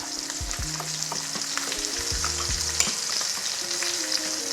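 Seasoned herbed butter is mixed in a hot cast iron skillet after a ribeye steak, giving a steady loud sizzle and frying hiss throughout, with a few low scraping stirs close by and no talking.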